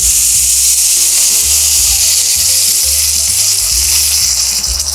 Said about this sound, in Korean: 감자를 구울 때는 너무 강불에 넣지 마시고 약불로 서서히 좀 익혀주세요